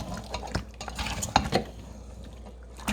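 Spices for a fish liboke are stirred in a dish, giving scraping spoon strokes and light clinks of utensil against the dish, with soft wet mixing between them, close and without talk.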